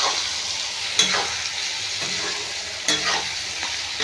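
Ground cumin and chili sizzle in hot oil in a pan, a steady bright crackle broken by two or three sharp stirring scrapes, close and fairly loud with no talking.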